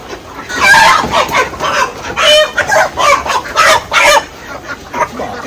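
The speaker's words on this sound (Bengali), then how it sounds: "সব হাঁস মুরগি সব হাঁসগুলো বাড়ি চলে এসছে" Chickens and ducks come home to a rural yard, clucking in a close, lively burst of repeated calls that rise and fall over several seconds, with no talk.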